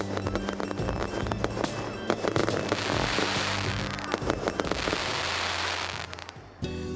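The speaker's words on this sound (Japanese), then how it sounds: "近くで打ち上げられる花火は迫力満点" Fireworks launched close by as the finale of a summer parent-child festival at an elementary school district, a dense loud barrage of bursts and crackles running continuously for several seconds before stopping abruptly.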